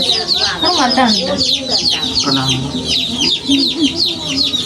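A group of chicks and hens chirps and clucks close by in a busy, overlapping chorus, with faint talking underneath.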